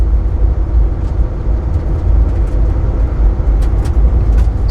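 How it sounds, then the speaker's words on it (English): A heavy-duty truck cruises in high gear at low revs on a bumpy gravel road, a loud, constant low engine drone and road rumble with occasional rattles and clunks from the suspension. "Nice thing about my gravel roads is they're really bumpy, so I get to confirm that the suspension is working"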